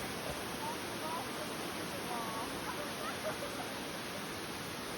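Steady broadband roar of a waterfall, constant and fairly close, filling the whole stretch without pause; a faint murmur of voices may sit beneath the rushing water.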